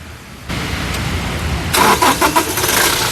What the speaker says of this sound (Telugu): ఈ కారు ఇంజన్ సింగిల్ సెల్ఫ్లో స్టార్ట్ అవుతుందా లేదా అన్న చూపిస్తాను